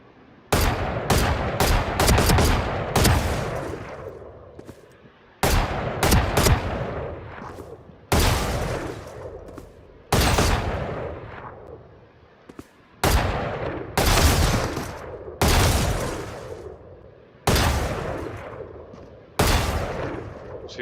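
Valorant gunfire rings out in rapid bursts of sharp, loud shots, several clusters spaced a few seconds apart with reverberant tails between them and no talking.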